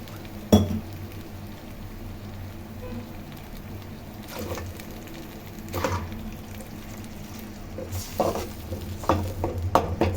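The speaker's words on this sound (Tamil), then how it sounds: "இதை நல்லா ஒரு மிக்ஸ் பண்ணிவிட்டு அப்படியே நம்ம வாட்டர் ஊற்ற வேண்டியதுதான்." Quiet scraping and clinking of a spoon stirring a masala mixture in a pan, in several short bursts over a low background hum.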